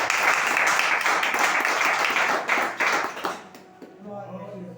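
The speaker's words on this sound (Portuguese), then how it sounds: "Quem pode aplaudir o nome do Senhor?" A church congregation claps and applauds loudly for about three seconds, the clapping thinning into scattered taps before fading, after which a voice begins speaking softly.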